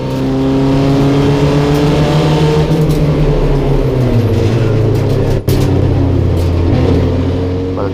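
Race car engine at full race speed running through turns 1 and 2 in fourth gear, a loud, steady close-up drone with slowly shifting pitch and a brief dip midway, no voices.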